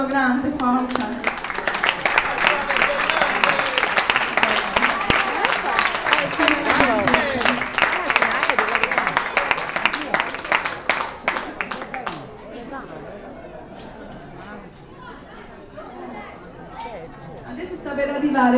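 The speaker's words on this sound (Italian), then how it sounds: "Ancora facciamo un applauso grande" Loud, dense applause from wedding guests, many hands clapping with voices calling out over it, thinning after about twelve seconds into scattered claps and chatter.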